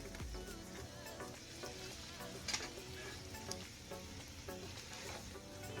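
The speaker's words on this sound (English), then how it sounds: "I'm going to let this sausage brown" Italian pork sausage browns in a pot for Cornish hens with dirty rice stuffing, giving a steady low sizzle that runs throughout with a few faint stirring clicks and no talk.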